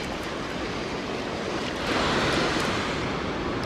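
Ocean surf washes in steadily while someone fishes for a shark from the water's edge: a continuous broadband hiss of breaking waves that swells briefly about halfway through, with no voices.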